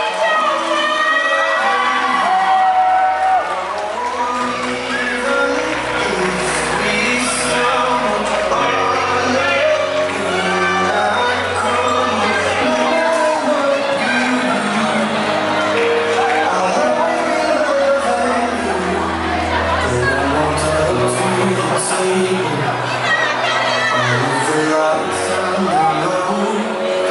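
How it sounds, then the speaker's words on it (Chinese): Wedding guests scream and cheer as the couple makes their entrance at a wedding reception, a loud, continuous crowd roar of shouts and whoops layered over music, with voices mixed in. "尖叫声"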